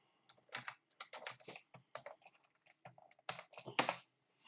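Typing on a computer keyboard: quick irregular bursts of crisp, close key clicks with short pauses between, no voices.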